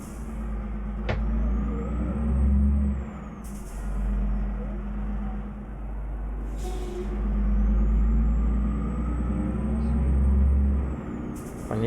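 A Scania R4 truck engine labors under load, a deep steady drone with a low rumble rising and falling, punctuated by a sharp air brake hiss near the start and occasional brief higher whines.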